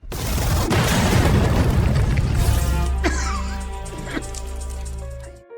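A loud, deep boom with a long rumbling roar that fills the clip, followed by crackling debris and a few sharp pops as it fades.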